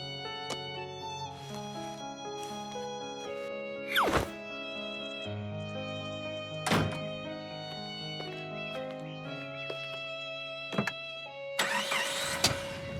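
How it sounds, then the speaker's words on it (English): A cartoon car starts and drives off, its engine and a few thunks partly buried under steady background music, ending in a louder rushing burst. "Mr. Fox set off in his car with Po beside him."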